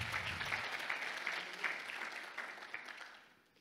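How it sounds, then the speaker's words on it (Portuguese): Church congregation applauding after a call to clap for Jesus, a dense, steady wash of clapping hands that holds for several seconds and then thins out toward the end, with no voices over it. "Vamos aplaudir Jesus bem forte."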